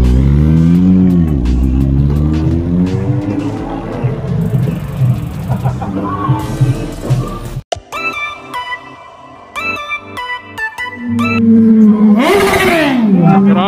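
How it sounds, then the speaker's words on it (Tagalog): Kawasaki Ninja 400R motorcycle revving on a test drive, its engine note climbing close and loud at the start, then other tonal sounds in the middle before another rising rev near the end. "Test drive daw ni Chris Roms yung motor ni Moto Z1."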